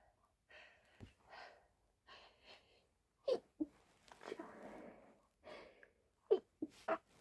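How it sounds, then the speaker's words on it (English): An intoxicated person sneezes, with sharp sneeze bursts arriving in quick succession, ending in a triple, close and loud after stretches of low murmuring and breathy vocal sounds. "Sneezing triples, apparently."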